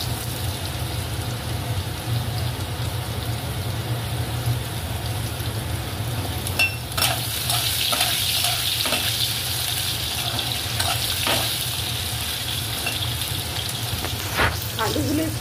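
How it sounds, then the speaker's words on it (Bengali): Long-cut potato slices fry in hot oil at home, a steady close sizzle under a low background hum, with intermittent scraping and clattering of stirring partway through. "আলুগুলো একটু ভাজা ভাজা করে নেওয়া হবে"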